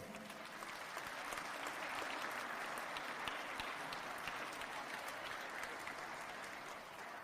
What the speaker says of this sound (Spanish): Vamos a darle un aplauso a David.